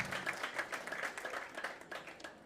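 Applause from a conference audience for delegates, a fairly quiet wash of overlapping claps with an even, steady texture throughout.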